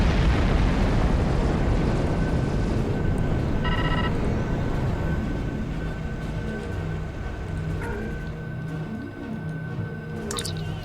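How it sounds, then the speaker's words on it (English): A line of torpedoes fired and exploding in the Star Trek Online space game: a rumbling blast that fades into a long, decaying wash, with faint bleeps and effects layered on top. "And there goes another line of torpedoes."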